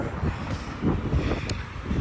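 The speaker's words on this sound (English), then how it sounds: "It is extremely windy" Strong wind buffets the microphone in a continuous low roar with gusty swells and no other distinct sounds.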